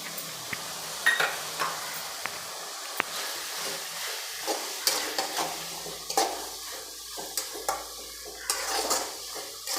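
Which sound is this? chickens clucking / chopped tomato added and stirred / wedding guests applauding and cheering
chopped tomato added and stirred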